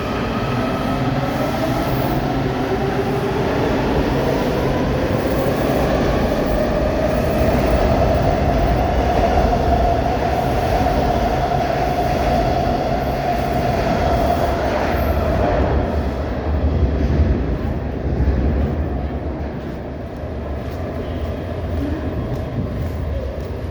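A WMATA 7000 series metro train riding the Green Line gives a steady, loud rolling rumble with a rising and falling whine of motors and wheels, heard from inside the car with no talking.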